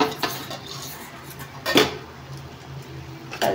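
Vermicelli stirred in a cooking pot of boiling water with a metal utensil, giving a few scattered scrapes and clinks against the pot, with one sharper knock near the middle and another at the end.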